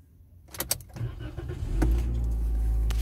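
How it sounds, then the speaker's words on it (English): A car engine being started: clicks and rattles of the key, a short crank, then the motor catching into a steady, close idle hum. "Now the car is on and it's in."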